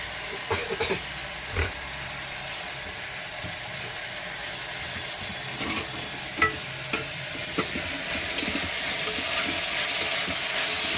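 Vegetables and small tomatoes frying in a pan for veg rice, a steady low sizzle broken by scattered knocks and scrapes of a stirring spoon, close by with no talk.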